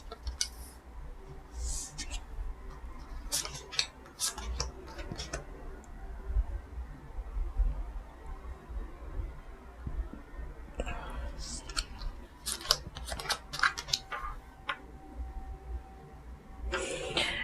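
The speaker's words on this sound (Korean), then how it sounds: "카드 나열 해볼게요." Tarot cards are laid out on a table, making soft ticking and clicking taps and light slides of card stock, close and fairly quiet over a low background hum, with a few scattered voice sounds.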